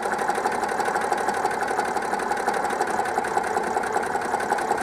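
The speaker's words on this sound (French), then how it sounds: "je vais accélérer un petit coup pour voir" Citroën 2CV engine running steadily with a rapid, even mechanical clatter, close and continuous, being checked during a condenser test with no spark showing.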